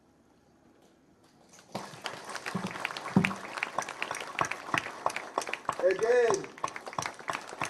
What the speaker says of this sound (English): May you now join me in giving a round of applause to the Uzima team.